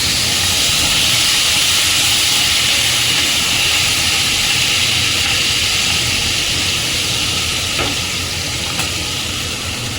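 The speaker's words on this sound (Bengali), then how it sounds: "এই এখন আলুগুলো ছেড়ে দিই।" Potatoes fry in a hot pan with a loud, steady, broad sizzling hiss that carries evenly from start to finish, close and dense, with no speech over it.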